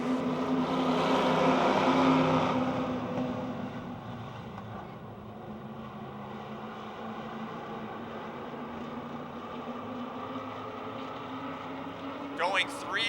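Race cars circle Motordrome Speedway in a June 2008 stock car race, a steady broadband engine roar that swells loudest over the first couple of seconds, then holds at a slightly lower, even level throughout.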